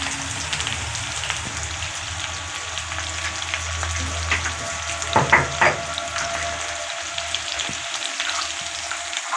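Cauliflower, potato and rohu fish sizzle steadily in a frying pan, a dense crackling hiss with a few louder spits and pops midway, no voices.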